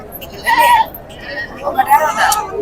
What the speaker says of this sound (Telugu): ఐదు మేకలు కలిసి ఇక్కడ కూడా ఉన్నాయి